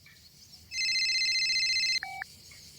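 Telephone ringing before a phone call, a single electronic trill of steady high tones lasting over a second, followed by a short lower beep, with no talk over it.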